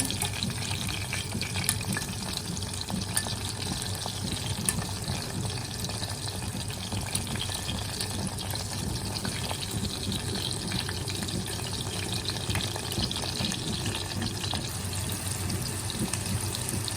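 Squid calamari deep-frying in hot oil, a dense, steady crackling sizzle with faint bubbling that holds loud and unbroken from start to finish, with no voices.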